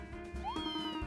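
A cat meows once in the video game Fantasy Life: a short, clear rising-and-falling in-game meow over a steady background music drone.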